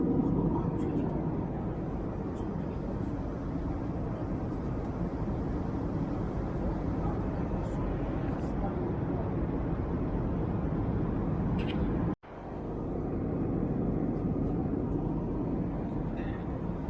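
Steady, loud broadband cabin roar fills an Air China airliner cruising at altitude, continuous throughout with a brief dropout near the end, under a crew announcement.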